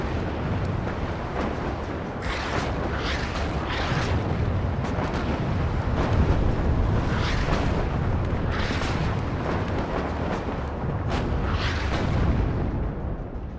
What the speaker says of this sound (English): we're being hit here by the artillery